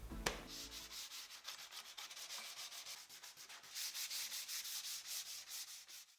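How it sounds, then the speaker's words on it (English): Wood sanded by hand with 220 grit sandpaper, a steady series of close, rhythmic scratchy strokes rubbing back and forth, fairly quiet and with no voices. "manual sanding will be done with 220 grit sandpaper"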